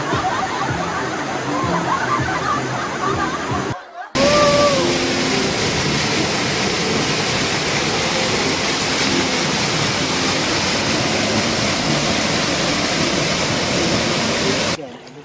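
Karugo Falls roars as a steady, loud, dense rush of falling water, continuous throughout with a brief dropout, and a voice is faintly heard beneath it.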